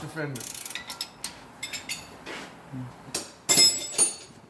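Box end wrench on a nut at the front wheel hub of a 2008 Nissan Maxima, giving a scattered run of small metallic clicks and clinks, close and fairly quiet, ending in a few sharper clanks with a brief voice early on.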